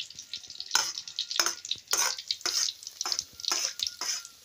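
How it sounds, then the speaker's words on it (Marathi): Spring onion greens sauté in hot oil, a soft crackling sizzle broken by repeated stirring scrapes in an irregular rhythm, close and fairly quiet. "आता भाजी त्याच्या तेलात परतून घेणार"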